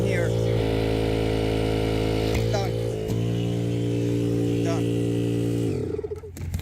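A steady electric air pump drones loudly while inflating a one-person inflatable kayak, its constant motor hum running for several seconds before winding down near the end, with brief faint voices over it.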